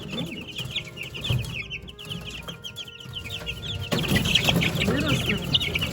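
Ameraucana chickens cluck repeatedly in a busy, overlapping chorus at close range, with a bird growing louder near the end over low background rustling.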